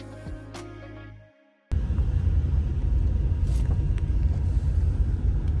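Cars travel a Yellowstone park road past a bison mother and calf, heard as a brief quieter passage that cuts to a loud, sustained rumble of road and engine noise.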